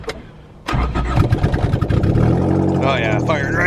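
An old Honda Civic EG engine with no exhaust cranks and fires right up, then settles into a loud, raw, rough idle with some revving close by. A voice briefly joins near the end.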